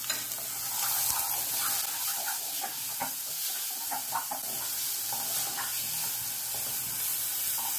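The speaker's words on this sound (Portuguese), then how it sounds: "Vou refogar a cebola primeiro." Chopped onion sautés in oil in a pan, a steady sizzle with light stirring and scraping that runs throughout at moderate volume.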